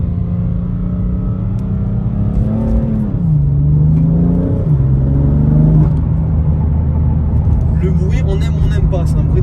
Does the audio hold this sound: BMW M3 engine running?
yes